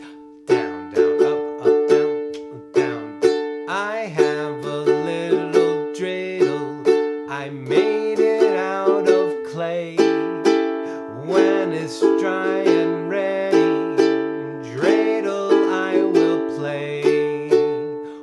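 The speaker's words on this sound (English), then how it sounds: "what we'll play is down, down, up, up, down, then wait, down, down." Ukulele strummed in a repeating down, down, up, up, down pattern with a pause and two more downstrokes, played on Hanukkah's Dreidel Song; bright, close chords with crisp rhythmic attacks and no talking.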